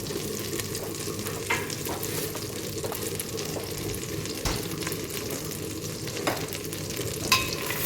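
Butter melts and sizzles in a pan for bobotie, giving a constant soft crackle with occasional sharp clinks and scrapes from stirring, close by and without talk.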